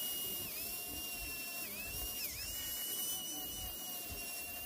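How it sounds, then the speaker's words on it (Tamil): A grinder refinishing the front and back faces of a cricket bat whines steadily at a high pitch, its tone dipping briefly several times as it presses into the wood over a low rumbling background. "ஃபுல் பேட்டையும் நம்ம வந்து கிரைண்டிங் பண்ணுறோம்"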